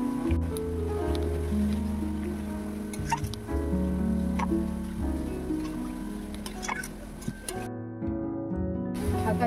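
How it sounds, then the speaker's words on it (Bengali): Water is poured into a cooking pot of dal with greens, giving close watery sloshing, dripping and soft splashes over a dense background hum, ending in a brief silent gap. "পরিমাণ মতো জল দিয়ে দেবো।"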